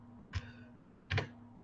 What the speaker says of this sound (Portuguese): Troquei o teclado aqui, deu para perceber